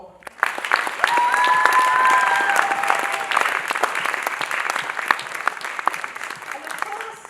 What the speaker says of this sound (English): So we have to give a big round of applause to Miss Sharan Kaur